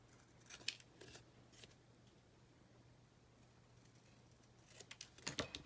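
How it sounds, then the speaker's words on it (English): Scissors snipping the corners off craft paper scraps in a quiet room, a few short close crisp snips early, then a cluster of quick cuts at the end over a faint steady hum. "we're just going to snip off the corners, doing a small edge."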